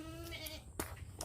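A goat gives a few short, wavering bleats close by, with a quavering call at the start and brief, sharper cries later over low background noise.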